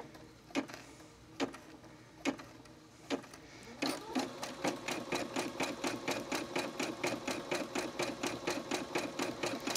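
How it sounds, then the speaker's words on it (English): Sewing machine embroidering a message onto fabric scraps for a gift tag: a few spaced single stitch thumps, then a fast, steady run of regular mechanical stitching clicks and whirring, close and fairly quiet. "now we're gonna embroider that message onto the fabric"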